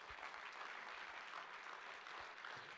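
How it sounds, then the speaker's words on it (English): An audience gives a speaker another round of applause, a steady, even wash of many hands clapping at moderate distance, with no talk over it. "Let's give him another huge round of applause."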